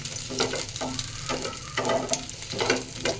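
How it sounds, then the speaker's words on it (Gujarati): Baby potatoes fry in hot oil for dum aloo, the crackling sizzle swelling and easing in regular waves as they are stirred, near and fairly loud with no talking. "ગરમ થઈ જાય એટલે આપણે એમાં બટેટી એડ કરી દઈશું"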